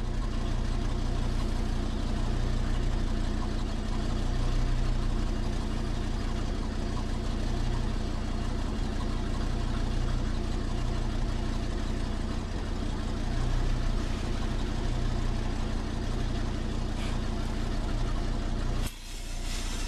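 A gasifier-fueled engine idles at about 500 RPM, a steady low rumble that runs loud and continuous with no break until it drops off sharply near the end.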